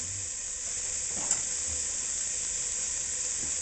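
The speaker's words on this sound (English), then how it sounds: "As you can hear, I got the bacon going." Bacon sizzles in a pan with a steady, even hiss, close and moderately loud, with one faint clink partway through and no voices.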